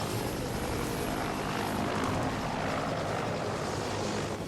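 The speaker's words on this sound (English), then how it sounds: "there's an unidentified helicopter that's flying toward the rescue path" Helicopter in flight during a movie rescue scene, a steady loud rotor and engine roar filling the whole stretch with no break or talk.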